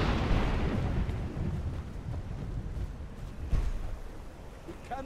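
The Clear Skies dragon shout in Skyrim, a broad roaring rush of sound that swells at once and fades over a few seconds, rumbling like a distant blast with faint echoes.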